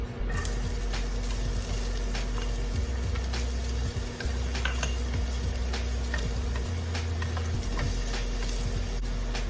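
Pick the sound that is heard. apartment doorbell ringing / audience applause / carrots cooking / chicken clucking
carrots cooking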